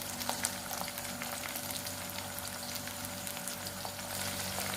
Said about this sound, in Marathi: ती पेस्ट तळून घ्यायची